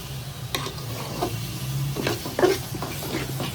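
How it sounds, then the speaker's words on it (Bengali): Raw mango pickle is stirred in a pan with five-spice and dried chili. A spoon scrapes and clinks over a soft continuous sizzle, in irregular strokes, close up and with no one talking. "পাঁচফোড়ন আর যে শুকনা মরিচ টালা দিয়ে ভালো করে এটাকে নেড়ে ছেড়ে নেব।"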